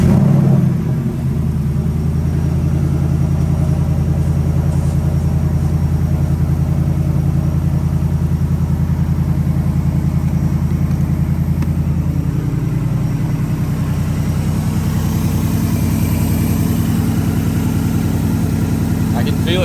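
A vehicle engine fitted with an S&B cold air intake starts up and settles into a deep, steady idle rumble close by, a low throbbing drone that continues for the whole stretch, with a brief change in tone partway through.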